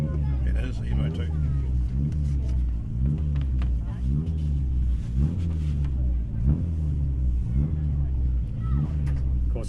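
A Mitsubishi Lancer Evo 2 rally car at the start line of a forest rally sprint, its engine rumbling low and steady under a commentator's continuous talk.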